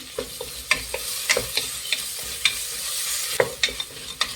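Ginger garlic paste with a little mint and coriander leaves fries for an egg biryani, a steady close sizzle punctuated by frequent quick scrapes and taps of a spoon against the pan, with no talking.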